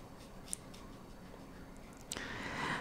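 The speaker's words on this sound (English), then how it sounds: "So we'll cut it pretty low there to around this much here" Scissors snip through regrowing onion greens in a quiet room, a faint crisp cut near the start and a louder crunchy snip toward the end, soft and close.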